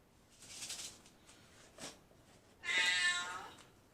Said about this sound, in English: my cat wanted to put in her 2 cents on it